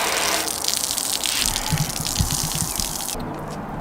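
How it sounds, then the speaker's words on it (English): Water gushes steadily while rinsing out the inside of a car gas tank from a Volvo 240 project, a loud continuous splashing rush that cuts to a quieter trickle near the end. "I got to rinse this whole thing out for a little while before I go to the next step"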